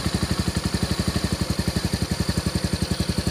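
A motorcycle engine chugs in a steady, rhythmic low pulse as the clutch is slowly let out to start moving, close and continuous.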